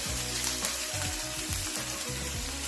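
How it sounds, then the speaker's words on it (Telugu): Chopped ginger and garlic frying in a pan make a steady, close sizzle. A pulsing low hum runs underneath, and nobody talks. "అల్లం, వెల్లుల్లిపాయ వేసుకొని బాగా ఫ్రై చేసుకోవాలి."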